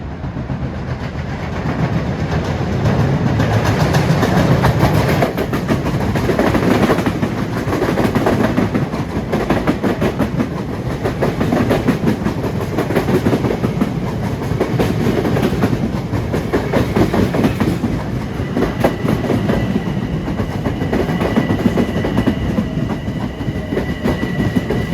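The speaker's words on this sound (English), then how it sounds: "5:33 approaching his train 2061 from Ronkonkoma to New York" Long Island Rail Road train 2061 from Ronkonkoma to New York runs through a damp triple-track stretch at Carle Place/Mineola, a loud, close, continuous rumble with steady clickety-clack of wheels on rail joints throughout.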